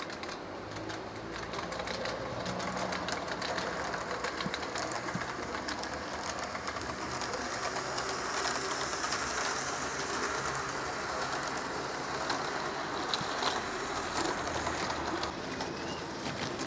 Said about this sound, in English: I've got 4 trains running now, 2 on each way, a passenger train and a goods train in each direction.